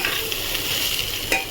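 Ridge gourd is stirred in a cooking pan, a soft scraping and stirring over a faint, steady sizzle, close and quiet, with no talking.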